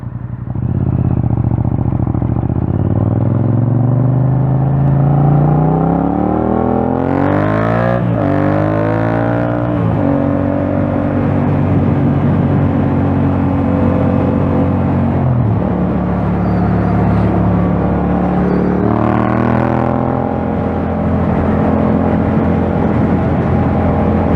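A motorcycle rides the Paris périphérique ring road, its engine loud and close as revs climb and fall through repeated gear changes over a constant traffic rumble.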